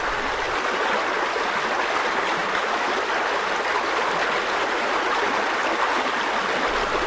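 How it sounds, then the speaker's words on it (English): Preservative liquid poured from a sample container into a waste container during field water sampling gives a steady, even splashing rush that carries on without break. "pours the preservative into the waste container"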